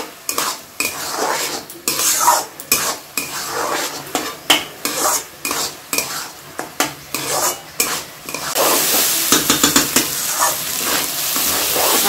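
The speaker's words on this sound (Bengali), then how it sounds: "আলুগুলো চালের সাথে ভেজে নিচ্ছি" Potatoes and rice fried together in a pot for vegetable pulao, with repeated loud scraping strokes of a spoon against the metal under a steady sizzle that swells and grows denser toward the end.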